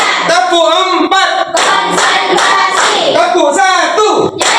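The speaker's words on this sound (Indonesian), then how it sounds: "Tepuk 1, tepuk 2, tepuk 3," Children in a classroom clap together in a rhythmic counting chant during an Islamic faith and morals lesson on divine decree, sharp clap bursts repeating through nearly five seconds over loud group voices.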